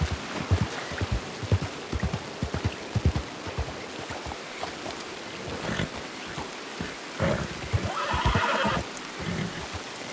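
Horse whinnying in a rainy storm during a Western roleplay game ride, with rain and thunder-like rumbles filling the background and repeated low thumps throughout.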